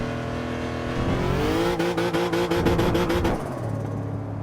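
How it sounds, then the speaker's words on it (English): A car engine with a stock transmission, held in third gear while drifting, revs up and sweeps in pitch with a rough rasping note, then drops away near the end; no voices. "I like drifting in third with the stock transmission. That sounds so nice."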